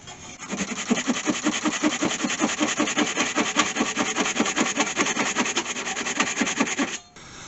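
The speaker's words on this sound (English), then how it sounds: "So I'll lock the lathe up now so it won't move. Makes it a lot easier for sawing." A hand saw cuts through wood held on a locked lathe in fast, steady back-and-forth strokes for several seconds, then stops abruptly.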